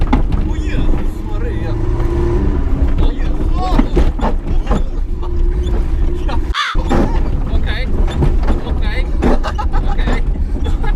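A turbocharged Fiat Seicento drives on an airfield, its engine droning steadily and loudly throughout while people talk and shout over it in the cabin.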